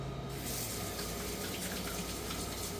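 Tap water runs steadily into a sink while mushrooms, sausage and onion are rinsed, a constant close hiss with no talking.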